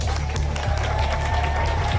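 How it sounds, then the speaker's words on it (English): Audience applause for children who have just received their vaccine shots, a steady wash of clapping from a crowd with some murmuring underneath, continuous for about two seconds. "Let's give a round of applause to all the brave kids here who got their shots."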